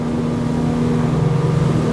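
A Back Cove 34O motorboat cruises at about 21 knots with its engine trimmed down: a steady, loud engine drone with a low hum and rushing water, with no voices.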